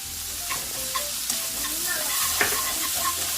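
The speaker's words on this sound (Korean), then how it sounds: "마늘도 넣어주시고 생강도 넣어주세요" Garlic and ginger fry over high heat in a pan of Korean seasoned gochujang sauce, giving a bright steady sizzle with a few soft stirring scrapes.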